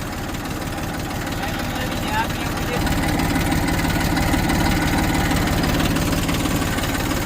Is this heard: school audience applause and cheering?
no